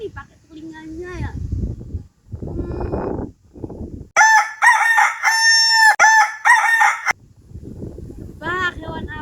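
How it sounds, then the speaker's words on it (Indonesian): A rooster crows loudly in the middle, a long cock-a-doodle-doo standing alone, with talk before and after it. "ayam yang berkokok di pagi hari"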